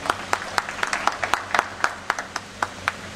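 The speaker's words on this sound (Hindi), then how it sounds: "आप सहयोग दे सकते हैं तालियां बजाकर।" Sparse, scattered hand claps from a small audience at a formal welcome ceremony where bouquets are presented, a few individual claps ringing out irregularly rather than sustained applause.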